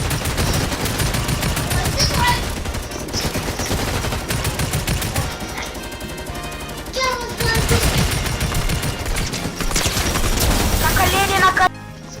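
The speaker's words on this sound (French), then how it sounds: "Mais c'est le fusil d'assaillant à rafale. Qui est avec le viseur." Burst-fire assault rifle shots from the video game Fortnite, loud rapid volleys repeating over the whole stretch with booming impacts, while a voice talks over the gunfire.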